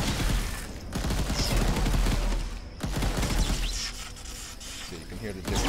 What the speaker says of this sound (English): So when I shoot it